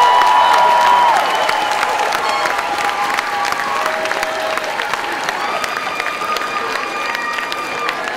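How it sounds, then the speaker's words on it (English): Degree candidates at the 2012 USC Annenberg School of Communication commencement turn and applaud their families, a sustained wash of clapping from a large crowd, with voices mixed in underneath. "I would like to ask the candidates for degrees to turn and applaud your families, your friends, and those who have helped you get this far"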